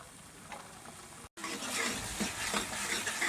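Masala roasting in oil in a pan for baingan bharta, a steady sizzle with continuous stirring scrapes, close and moderately loud, briefly cut off before resuming.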